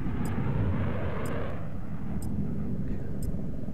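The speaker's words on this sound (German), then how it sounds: "Oh, der Jet." A jet aircraft roars past in a video game, a heavy steady rumbling wash with faint sharp ticks above it, loud and continuous.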